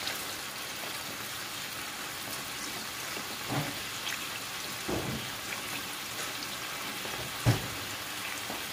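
Rain falls outside during cooking, a faint continuous patter and hiss with a few soft scattered knocks.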